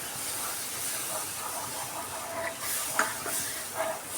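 Milk poured into flour fried in a pan for a white sauce pasta, giving a steady soft hiss and sizzle with a few faint clinks and stirring scrapes, close by and with no talking.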